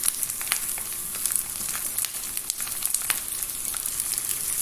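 Chopped green onions frying in hot oil for a moong and masoor dal, a steady close sizzle with crackling pops throughout and no talking.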